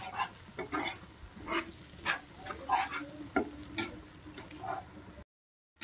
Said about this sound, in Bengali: দিয়ে আমি আরও কিছুক্ষণ নেড়ে নেবো